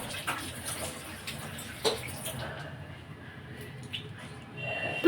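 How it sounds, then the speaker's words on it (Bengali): Tap water runs steadily while coconut oil is washed off a face, a soft continuous splash with occasional louder splashes and drips, nearby and fairly quiet. "এইবার এটাকে আমি ধুয়ে নিচ্ছি"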